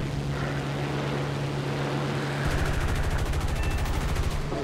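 Rapid bursts of cannon fire in War Thunder rattle out in quick succession over a steady low engine drone, game-style and fairly faint.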